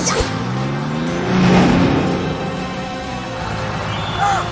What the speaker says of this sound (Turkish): Aferin süper kamyon.